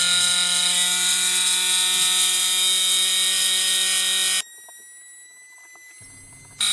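An old small CNC spindle motor runs on a 7.2 volt battery pack, a loud steady high-pitched whine that cuts off abruptly and briefly resumes near the end.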